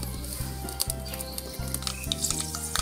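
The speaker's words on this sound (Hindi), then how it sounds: "ऑयल हमारा गर्म हो चुका है, अब हम इसमें फ़ोरन डाल देंगे।" Whole spices tempering in about two tablespoons of hot oil for a potato and aubergine curry, a steady close sizzle and crackle with a low tonal hum running underneath, no talking.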